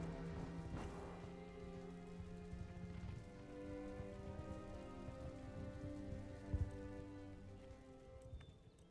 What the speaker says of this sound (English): Good old bit of rain.